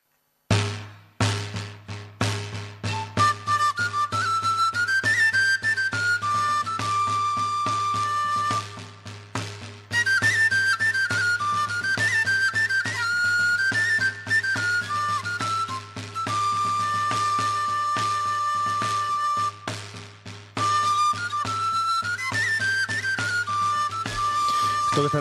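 Traditional music of northern Extremadura, the Ofertorio de Sierra de Gata, from a recording: a shrill high melody line, likely pipe or whistle, over a steady low drone and drum pulse, playing continuously with brief pauses between phrases.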